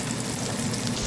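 Chopped shallot dropped into a hot pan, giving a dense, continuous sizzle that stays loud and close through the short moment.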